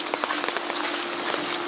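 Heavy rain pours down in Sudak, Crimea: dense close patter of drops on surfaces with a few sharper splats, continuous and steady.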